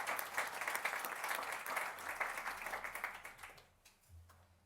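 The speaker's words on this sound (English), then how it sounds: "let's give a round of applause for Lawrence and Doreen" An audience applauds speakers at a talk, with dense, sustained clapping that gradually thins and fades over the last second, leaving a few scattered claps.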